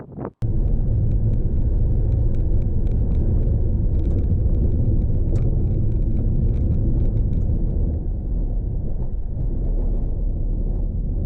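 A car rolls over a corrugated dirt road in remote desert country, a loud, steady low rumble with constant rattling and vibration that holds throughout, broken by a sharp knock at the very start.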